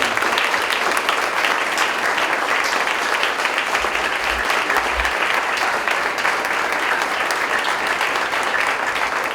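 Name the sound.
audience applause for student athletes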